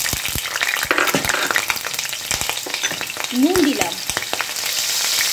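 Diced potatoes fry in mustard oil with salt, loud and close, a dense crackling sizzle with spatula scrapes and taps, and a voice speaks briefly over it.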